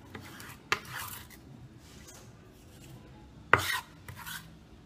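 Knife chopping onion finely on a board for refrito, with a few sharp isolated cuts and soft scraping between them, close and fairly quiet.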